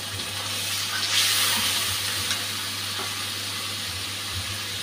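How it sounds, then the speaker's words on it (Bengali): Spice paste frying in a pan with fried onions for a koi fish curry, a steady loud sizzle and hiss that runs without a break and has no talk over it. "পেঁয়াজটা ভাজা হয়ে গেছে, এখন গুলে রাখা মশলাটা দিয়ে দিচ্ছি।"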